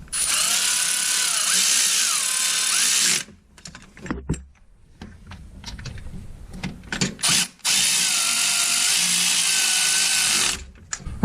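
A power tool whirs loudly in long steady bursts as it drives 10mm bolts tight on the differential cooler of a 2005 Chevy Corvette, with clicking and clattering between the runs.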